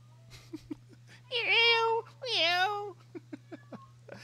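Two long, drawn-out cat meows in quick succession, clear and close, with a steady low hum and a few soft clicks around them.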